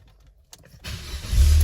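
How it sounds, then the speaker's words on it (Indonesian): A car engine starts for an OBD2 scanner battery test: a faint click, then the starter cranks and the engine catches into a loud, steady idle, with no talking. "Nah, kita hidupkan mesin."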